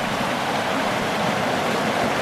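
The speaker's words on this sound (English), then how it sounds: "just right here is a very interestingly colored stream" A pale, milky creek in a central Utah forest rushes steadily nearby, a continuous broadband wash of flowing water with no voices.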